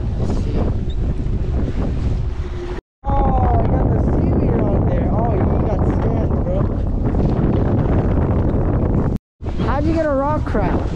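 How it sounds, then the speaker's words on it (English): Strong gusting wind buffets the microphone on a fishing pier, a loud continuous roaring rumble broken by two brief dropouts, with voices talking underneath. "Really windy."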